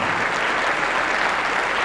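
Audience applause at a Dallas Bone Bash charity event for the Arthritis Foundation, a dense, steady wash of clapping that stays loud and even throughout with no pauses.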